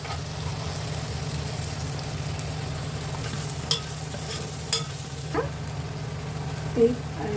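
Spices and chopped tomato sizzle and fry in a pan as chili powder goes in, a steady low sizzle with a few soft clinks and scrapes from stirring.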